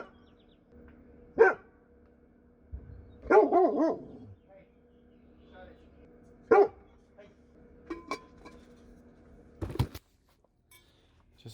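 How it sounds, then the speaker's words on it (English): A dog barks several times in separate short bursts, fairly near, with quiet gaps between barks inside a van being built out. "I didn't mean to bark"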